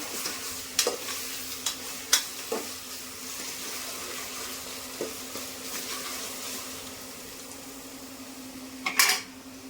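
Curry with ginger-garlic paste fries in a pan with a steady close sizzle, while a spoon stirs and scrapes against the metal in scattered knocks and a louder clatter near the end.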